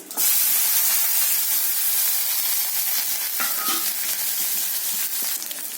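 Small shallots sauté in hot oil with fennel, cinnamon, cardamom and cloves, producing a loud, steady hissing sizzle with occasional spoon clinks and scrapes against the pan.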